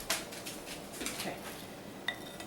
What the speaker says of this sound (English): I'm just going to kind of stir it around